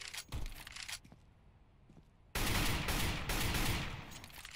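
Bursts of gunfire in the video game CS:GO, a short volley near the start and a louder sustained stretch of rapid shots in the second half, loud and alone.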